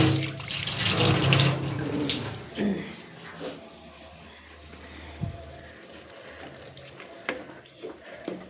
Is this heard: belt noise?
no